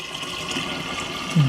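Fermenting homemade apple cider vinegar is poured into a jar with a spigot, a close, continuous liquid gurgle and trickle that swells into a louder slosh at the very end, with no talking.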